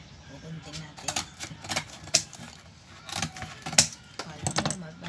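Scissors snipping through folded cardboard while a chicken box is made by hand, a series of sharp clicking cuts at irregular intervals, close and fairly loud, with a person talking throughout.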